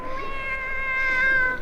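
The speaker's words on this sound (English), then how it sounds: "It's a cat." A cat meows in a long, drawn-out, plaintive cry, close and clear, on its own with no talking over it, in an old radio comedy.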